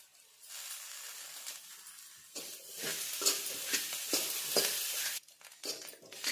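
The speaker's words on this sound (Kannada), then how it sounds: "ಲಾಸ್ಟಲ್ಲಿ ಸ್ವಲ್ಪ ಕೊತ್ತಂಬರಿ ಸೊಪ್ಪು ಹಾಕಿ ಫ್ರೈ ಮಾಡ್ತೀನಿ" Cauliflower fries with coriander leaves in a pan, giving a soft sizzle and scraping stirring strokes, close and moderately loud, rising and falling with each stir.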